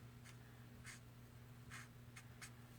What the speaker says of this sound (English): I am going to color this with my Stampin' Blend.